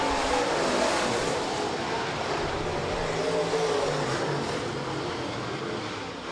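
Late model race cars drag race down the front straightaway at Rapid Speedway, a dense, loud roar of several engines blending into a steady wash of noise that slowly fades as the pack moves on.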